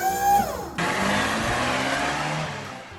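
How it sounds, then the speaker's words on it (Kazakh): A car rolls up with a steady, smooth rush of engine and road noise that holds evenly for a few seconds, then eases slightly, after a short tonal sound at the start. "Тағы да бір көлік келіп қалды."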